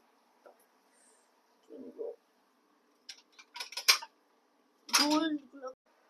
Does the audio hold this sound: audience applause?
no